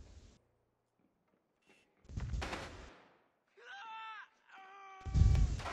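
Rainbow Six Siege gunfire: two loud, short bursts of shots separated by quiet gaps, with electronic game tones and beeps in between.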